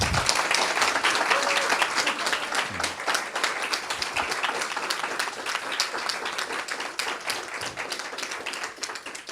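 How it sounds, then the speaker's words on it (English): A crowd claps continuously in dense, even applause that holds steady for the whole stretch. "can we give them a round of applause?"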